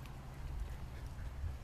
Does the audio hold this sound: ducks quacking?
yes